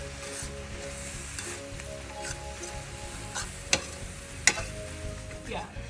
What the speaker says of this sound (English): I have my spinach over here, and that is also cooking